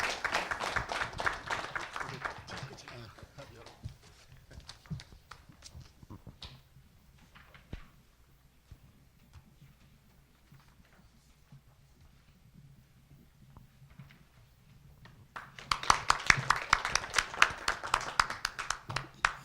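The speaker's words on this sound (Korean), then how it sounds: "박수로 한석수 원장님을 환영해 주시기 바랍니다" Audience applause welcoming a speaker to the stage at a UCN President Summit for junior college leaders in Korea, a burst of clapping at the start that fades to near quiet and then swells again loudly near the end.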